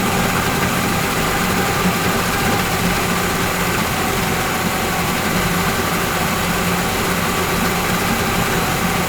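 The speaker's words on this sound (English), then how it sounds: "it started on the first pull" Yamaha 40 HP two-stroke outboard motor idling after a carburetor cleaning, a steady, close and loud running drone with an even rumble and no pauses.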